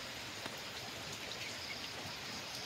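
Steady rain falls on a farm, a continuous even hiss of drops spread across the whole span, soft and distant, with no voices.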